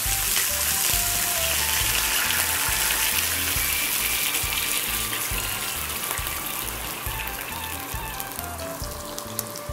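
Boiling water poured slowly into a small pan hisses and sizzles in a steady rushing stream throughout, close and continuous with no talking.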